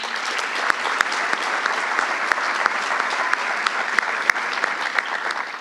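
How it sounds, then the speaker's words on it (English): Sustained applause from the audience at a law school bar swearing-in ceremony, honoring the administration and faculty; dense steady clapping fills the whole stretch without pause. "So another round of applause for all of them."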